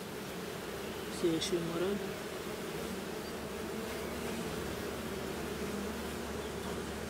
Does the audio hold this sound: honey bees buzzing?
yes